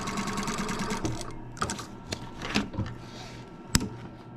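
A domestic sewing machine stitches through foundation paper piecing, a fast rhythmic whirring run broken by short pauses and a few clicks and knocks, close and fairly quiet.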